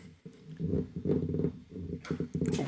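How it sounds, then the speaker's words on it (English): A fart erupts at a loud bourbon-tasting table: low buzzing, sputtering bursts in several uneven pulses, fairly quiet, followed by a brief hiss of noise near the end. "Did fart."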